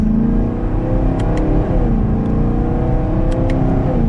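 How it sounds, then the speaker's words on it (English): A 2022 Chevrolet Camaro 1SS pulls away under mild acceleration, its V8 exhaust a loud, steady drone heard from inside the car, with a couple of faint high ticks. "Even just a mild acceleration up to speed. It's quick."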